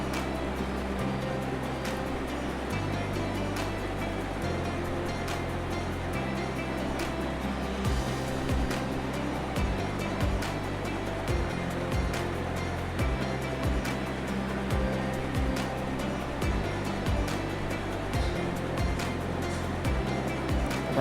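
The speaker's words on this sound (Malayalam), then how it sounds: "തേങ്ങ മിക്സിയിലോട്ടിട്ട് 2 ഉള്ളി ഇട്ട്, ചുവന്നുള്ളി, നമുക്ക് അതൊന്ന് അരച്ചിട്ട് വരാം" A mixer grinder grinds grated coconut with shallots, a steady loud whirring drone that pulses in repeated on-off bursts throughout.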